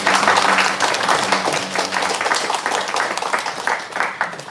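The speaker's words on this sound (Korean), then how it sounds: "우리 박수 한번 하겠습니다." A church congregation claps to welcome newcomers, loud dense applause that starts strong, thins slightly, then continues with a few distinct hand claps toward the end.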